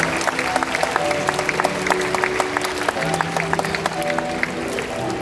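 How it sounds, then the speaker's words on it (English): An audience at a bird park show applauds, steady close clapping from a crowd that holds evenly throughout with no voices above it. "Let's give them a big round of applause."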